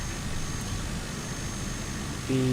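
Simulated aircraft engine in Microsoft Flight Simulator, heard as a steady low drone with a faint whine, fairly quiet and constant throughout, with a slight rise at the very end.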